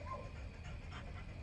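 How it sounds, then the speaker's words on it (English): Dogs barking and whimpering inside a house, muffled and fairly faint, heard from outdoors over low background rumble with no talk. "You hear some barking. That's the dogs in the house."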